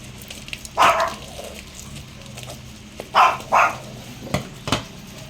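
A pet dog barks noisily at home in a few loud, close bursts: a single bark, then a quick pair, then two sharper yaps, with quiet pauses between them.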